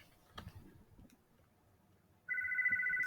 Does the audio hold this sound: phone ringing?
yes